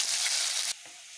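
Chopped onion sizzles in hot oil tempered with cumin and mustard seeds in a kadhai, a loud close hiss that drops abruptly to a softer fry partway through.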